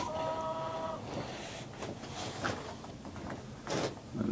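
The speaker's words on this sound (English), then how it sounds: "You can sure hear those yappy chickens." Backyard chickens cluck in short, scattered bursts at a moderate distance, mixed with faint rustling outdoors beside a seed-starting garden bed, with no one talking.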